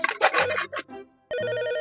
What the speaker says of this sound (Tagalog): Sasagutin mo ba yung telepono?